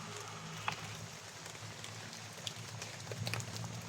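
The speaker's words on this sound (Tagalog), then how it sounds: "ang grabing ulan" Heavy rain pouring steadily, a dense, even hiss of drops on surfaces with a few sharper spatters, close and continuous with no voices.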